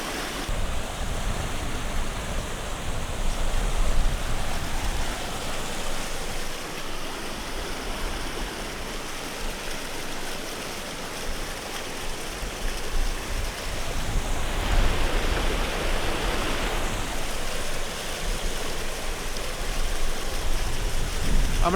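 Continuous rushing of water surging up over rocks in Alaska, a broad, steady wash that swells and recedes, loud and close with no voices.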